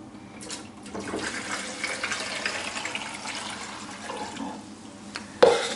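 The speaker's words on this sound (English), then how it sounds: "Plug it up, pour in the hypo wash," Hypo wash poured into a plugged combi tank for developing 4x5 sheet film, a soft steady trickle of liquid that builds after the first second and ends with a sharp knock near the close.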